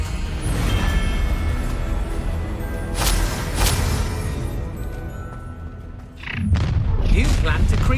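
Confringo spell explosions in the Hogwarts Legacy video game, booming blasts with crackling debris amid battle noise, loud and close, with a brief lull before another burst.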